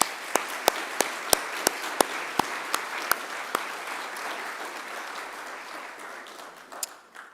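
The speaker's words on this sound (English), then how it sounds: "So I'd ask you to give them a round of applause too." Audience applause at a Macquarie University graduation ceremony: a few sharp, loud claps ring out first, then a dense wash of clapping from a large crowd that holds steady and gradually thins toward the end, with no talking.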